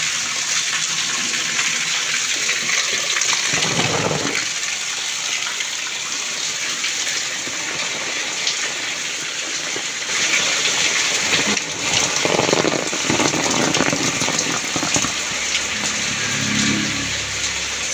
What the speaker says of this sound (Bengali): এই যে ছাদে থেকে পানি পড়তেছে